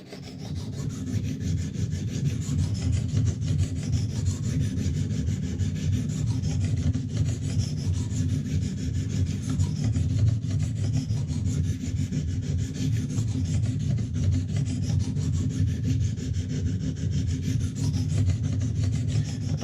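Steady, continuous rasping of a knife blade ground against a Lansky sharpener stone, even strokes running close and alone without any talk.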